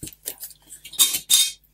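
Crinkly plastic rustling while a crafting envelope is glued, coming in short, close bursts with a sharper crackle near the end and no talking.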